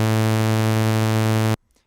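Steady pair of test tones set 1 Hz apart, forming a single sustained buzzy tone with a slow beat, loud and alone, cutting off abruptly near the end into near silence.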